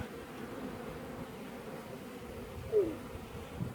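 Honeybees buzzing inside an open beehive make a steady, dense droning hum throughout, with one slightly louder swell near the end.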